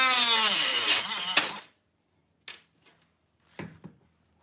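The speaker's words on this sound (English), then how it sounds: "I'm just cutting these by hand." A steel roll cage tube for a Class 1 cage cut by hand: a loud, close rasping cut lasting about a second and a half, then silence broken by a few short knocks and clanks of the tube being handled.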